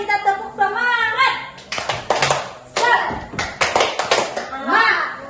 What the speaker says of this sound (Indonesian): Untuk bersemangat kita tepuk semangat.